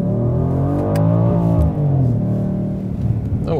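A Mercedes-AMG GLC 63 S SUV engine revs loudly and up close as the driver shifts manually, pitch climbing then dropping at the gear change around the midpoint, with another throttle blip near the end.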